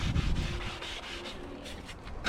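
Close, scratchy scrubbing of a van interior caked in silicone and dressing using a magic eraser, rhythmic rubbing strokes in quick succession over a short stretch, with no speech.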